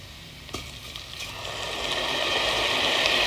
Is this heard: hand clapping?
no